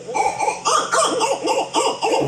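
Owls hooting close by at night, a steady run of repeated calls filling the whole stretch with no talk over them.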